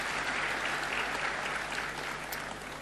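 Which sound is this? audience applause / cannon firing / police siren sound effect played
audience applause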